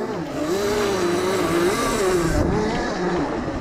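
Electric pit bike, a 72V machine, with its rear wheel spinning on a snowy trail: a steady motor whine wavering up and down in pitch, loud and close, with no talk.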